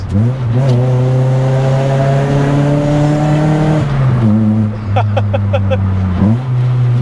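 An old Nissan Pulsar SSS with worn shocks drives winding roads, its engine droning loud and close as it climbs through the revs, with clear gear-change dips and rises and a few short ticking sounds.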